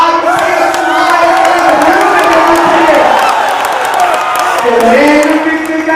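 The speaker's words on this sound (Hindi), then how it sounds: "अब पीछे तक आपकी तालियों का शोर पूरे बिहार शरीफ में जाना चाहिए।" A large crowd at a political rally in Bihar Sharif, Bihar, applauds and cheers loudly. Dense clapping and whoops form a continuous roar close by, with voices mixed through it.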